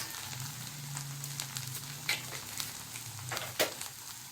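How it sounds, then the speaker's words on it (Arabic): Rice sizzling and crackling steadily in a hot pan, seasoned with salt and black pepper, with scraping stir strokes and a couple of sharper clinks against the pan, close and continuous throughout. "وهقلب برضو الرز كويس"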